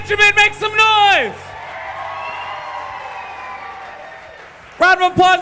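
Crowd at a comedy show cheering and applauding for a comedian, a long wash of clapping and whoops heard between bursts of a loud voice at the start and end.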